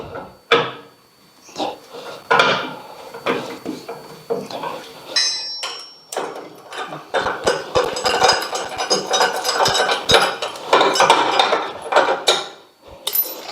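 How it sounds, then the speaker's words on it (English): Metallic clanks, clicks and rattles of a wheel spanner working a caravan's side jockey wheel loose, close and fairly loud, in irregular bursts of handling noise with brief pauses. "I removed this second side jockey wheel. I use a wheel spanner."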